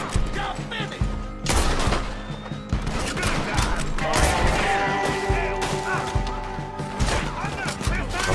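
Gunfire rings out in a Red Dead Redemption 2 street showdown: loud, dense volleys of shots and impacts keep cracking in quick succession over game sounds, with a voice speaking at times.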